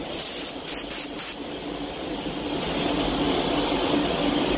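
Anest Iwata Hakone spray gun spraying clear coat onto a car bumper, a loud steady hiss of atomized paint after a few short bursts, continuing unbroken and alone.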